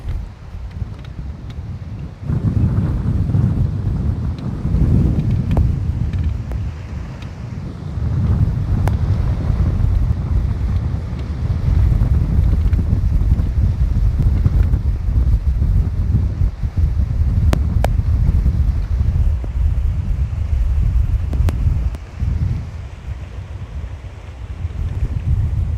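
Strong wind buffeting the microphone on a lake during bass fishing, a constant low rumbling roar with gusts rising and falling, loud and unbroken.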